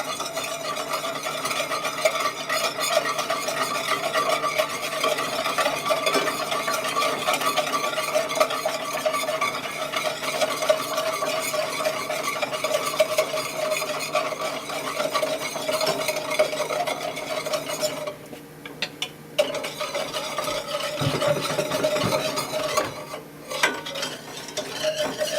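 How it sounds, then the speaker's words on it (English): Dry ingredients being whisked into melted chocolate for homemade chocolate ice cream, a steady scraping and stirring that runs throughout at moderate level, with a brief lull and a few clinks near the end. "now it says to gradually whisk this into the melted chocolate"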